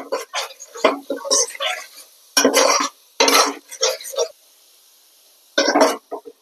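Mutton with Kashmiri chili powder being stirred in a pot at home, heard as loud, irregular scraping and clattering bursts with short pauses between, while a voice speaks in between.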